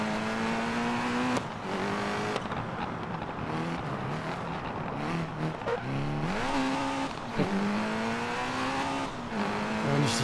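A rally car in the video game DiRT Rally climbs Pikes Peak, its engine loudly revving up and down through repeated gear shifts and bursts of acceleration, with tire noise on the gravel hillclimb and no talking.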